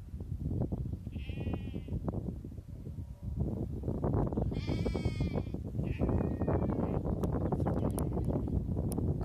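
A ram bleats on a farm outdoors, with two or three short wavering calls close to the microphone. Steady wind noise runs under them.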